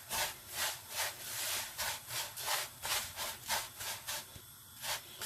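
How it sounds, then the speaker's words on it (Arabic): Couscous grains being rubbed with oil by hand give a rhythmic, close, gritty rustling in even strokes, roughly two per second. "وغادي نبسس هاد الكسكسو هذا مزيان."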